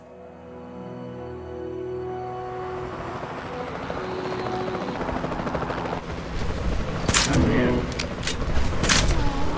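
Helicopter in a dinosaur video game, a rotor drone that swells from quiet to loud over several seconds, joined later by sharp bursts and mechanical noise, with game sounds layered throughout.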